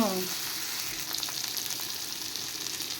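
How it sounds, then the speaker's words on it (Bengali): A spice masala for a shing fish curry fries in a pan with a continuous, even sizzle and faint stirring scrapes, after a brief voice-like sound at the very start. "মশলাটা ভাজা হয়ে গেছে"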